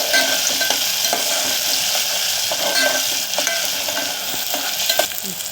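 Onion and tomato frying in a pan for matki aamti, a steady loud sizzle with repeated scraping stirs running throughout, no voices.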